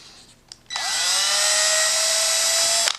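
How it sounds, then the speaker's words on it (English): A power drill with a hex bit chucked in backwards whirs up to speed and spins steadily at a high whine for about two seconds, then stops. "Chuck one of these bits up backwards in your drill"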